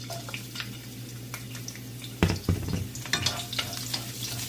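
Garlic sizzles in hot cooking oil in a pan, a steady crackle with scattered sharper pops and a louder burst of spattering midway, close and without talk.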